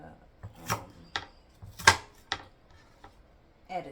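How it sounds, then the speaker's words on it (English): Onion being chopped on a cutting board, a handful of close, irregular knife thunks and scraping strokes separated by brief quiet gaps. "I'm gonna take the rest of this onion and chop it up"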